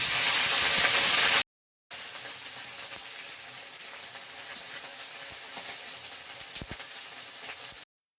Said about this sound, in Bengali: এবারে আমি ঢেঁড়সগুলো হালকা করে ভেজে নেব।